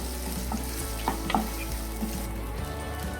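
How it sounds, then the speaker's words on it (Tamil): Onions and curry leaves sauté in hot oil, a steady close sizzle with a few scraping stirs of the spoon, no talking. "ஆட் பண்ணி நல்லா கலர் சேஞ்ச் ஆகிற வரைக்கும் வதக்கி விட்டுக்கோங்க"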